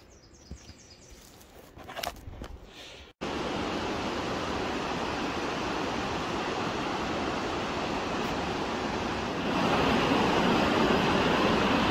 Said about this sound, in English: following these rapids here